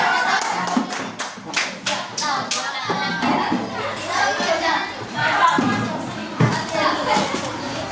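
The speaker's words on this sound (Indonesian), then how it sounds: "tepuk tangan dulu" Classroom children clapping hands together in quick bursts at the start, then settling into chatter and children's voices with scattered taps and thumps, the teacher's voice also speaking.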